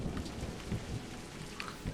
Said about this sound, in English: Now it's raining and thunder.